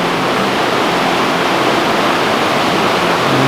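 The Little River in the Great Smoky Mountains rushes around a large boulder, a loud, steady, broadband roar of flowing whitewater heard up close, constant throughout with no voices.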